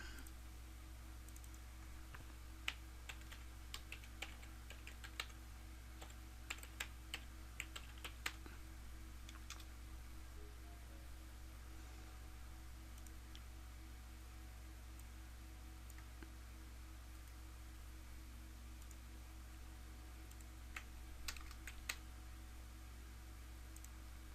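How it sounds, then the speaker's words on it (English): Quiet, intermittent typing on a computer keyboard, scattered clusters of light key taps over a low steady background hum with no talking. "let me type it on the screen."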